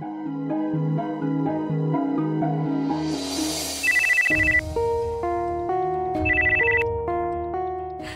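A phone ringtone plays a repeating electronic melody of bright tones, loud and close, with a rhythmic trilling burst appearing twice partway through, and no talking over it.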